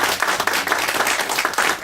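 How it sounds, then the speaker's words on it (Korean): Church congregation clapping to welcome first-time visitors at a Sunday service, a full, even burst of many hands applauding together, close and loud without a break. "여러분 박수로 환영하겠습니다"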